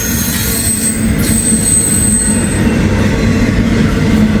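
A long freight train of empty ethanol tank cars rolls steadily past close by, with continuous rumbling wheels and metallic squeal over the full length, no voices.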